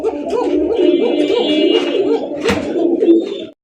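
Fancy Raj Golla pigeons coo loudly and close, a continuous run of throaty rolling calls with a brief rustle midway, ending abruptly.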